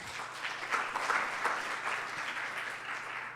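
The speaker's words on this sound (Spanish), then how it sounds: "Un aplauso para Fernando, por favor." Audience applause for Fernando at a conference on sustainable bond issuance, a fairly faint, steady patter of many hands clapping that holds evenly for a few seconds.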